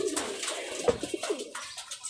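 Giribaz high-flyer pigeons coo close by, low burbling calls rising and falling in quick overlapping bursts with some soft rustling.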